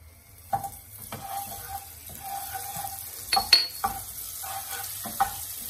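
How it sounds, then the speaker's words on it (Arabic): A wooden spoon knocks and scrapes in a pan as butter melts for a chocolate dessert, with a soft low sizzle under the repeated stirring taps. "نحاول نذوب هذيك الزبده كامله دائما بملعقه خشبيه"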